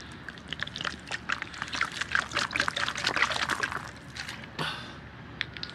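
Water poured over The Vault, a black water-resistant stash box lined with paper towels, makes a steady splashing trickle for about four seconds, then a brief final gush and a few scattered drips.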